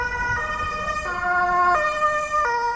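An ambulance arriving at a roadside emergency with a cyclist blares its two-tone siren, the high and low notes alternating loudly and steadily over a low rumble of traffic.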